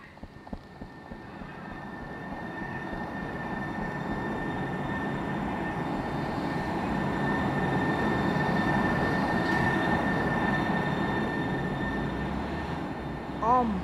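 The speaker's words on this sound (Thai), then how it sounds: "ดูรถไฟมาตึ้ง" A train rumbles past, its roar swelling and holding with a faint high metallic whine, then easing as the cars roll by.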